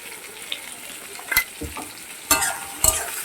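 A paste of cumin, poppy seed, white mustard, chili and tomato fries in a pan with a low sizzle, broken by several sharp spatula scrapes and clinks from nearby; nobody speaks.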